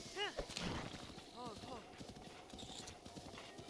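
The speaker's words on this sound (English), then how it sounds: "And there are plenty of horses here." Horse hooves clip-clop in The Legend of Zelda: Breath of the Wild, a steady rhythm of close, fairly loud footfalls with a brief whinny near the start and constant game ambience behind.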